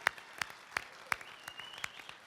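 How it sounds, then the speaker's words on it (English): Scattered, faint hand claps from a small number of people at a USSSA Hall of Fame induction ceremony, about six distinct claps spaced unevenly across a couple of seconds, with no voices. "Let's give him a standing ovation."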